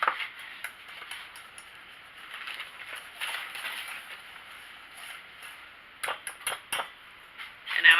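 A whisk beats homemade golden cake batter in a bowl, a steady scraping swish that runs throughout, with sharper clinks against the bowl bunched near the end.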